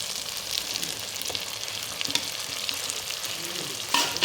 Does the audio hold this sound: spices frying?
yes